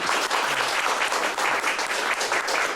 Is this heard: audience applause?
yes